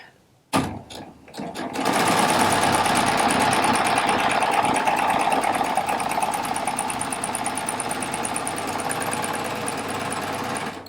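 A Baby Lock Triumph serger runs continuously while sewing a two-thread wide flatlock stitch, a fast, steady mechanical whirring hum that starts after a few clicks and carries on close and loud, with no talking.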